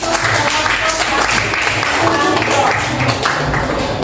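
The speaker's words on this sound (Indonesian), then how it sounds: "Mari kita berikan aplaus" Scattered hand clapping from a classroom of students applauding a group presentation, steady and fairly loud throughout, with voices mixed in.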